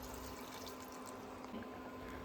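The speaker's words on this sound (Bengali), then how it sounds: "আমি কিছুটা উষ্ণ গরম জল মাংসের মধ্যে দিয়ে দেবো" Warm water poured into cooking meat in a pot gives a steady, even rush of liquid at moderate level with no pauses, and no voices are heard.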